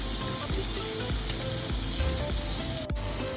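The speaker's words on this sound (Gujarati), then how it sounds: "એની જે પ્યુરી બનાવીને રાખી છે એ આપણે એડ કરશું એ પણ આપણે તેલમાં સરસ સાતરી લેશું" Onion puree frying in hot oil for Punjabi chole, a steady close sizzle with faint stirring scrapes and no talk over it.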